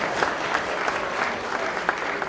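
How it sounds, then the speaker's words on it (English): Audience applause for a high school at an esports awards ceremony, a steady wash of clapping from a crowd that holds evenly throughout without any voices standing out. "One more round of applause for Oregon Davis Junior Senior High"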